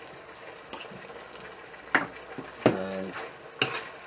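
Beans and diced red pepper stir-fried in a hot pan: a steady low sizzle with a few sharp scraping and clattering strokes of a utensil against the pan.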